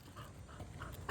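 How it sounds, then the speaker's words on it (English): A little dog named Barbie whimpering softly, a brief faint whine close by with light panting over a quiet background. "That is a little itty bitty dog."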